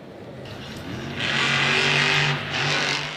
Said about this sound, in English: Big jump out of the gate for Adam Anderson